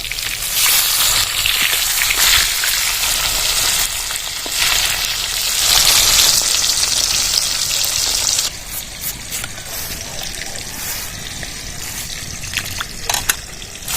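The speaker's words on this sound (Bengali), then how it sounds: "এরকম লাল লাল করে ভেজে নিতে হবে মাছগুলো" Rohu fish pieces and cauliflower fry in hot oil with a loud, steady sizzle and crackle that runs for most of the stretch, then drops to a quieter bubbling hiss with scattered pops near the end.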